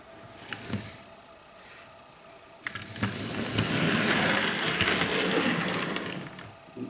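Bachmann HO scale 0-6-0 steam model locomotive running on track, a quiet start that rises into a steady whirring motor hum with faint rattling wheel clicks, close up and with no speech.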